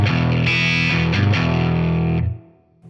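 Electric guitar played through a Source Audio ZIO boost pedal set to its bright tone, with the guitar's volume rolled back: a loud, slightly distorted chord strummed and sustained for about two seconds, then cut off.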